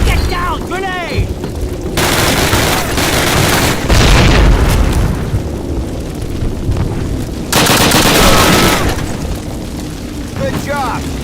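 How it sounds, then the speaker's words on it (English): A grenade blasts in the original 2003 Call of Duty amid rattling gunfire, with heavy booms around the middle and again later, loud and close in the midst of a chaotic firefight, and shouting voices at the start and end. "Grenade! Look, grenade! Get down! Grenade!"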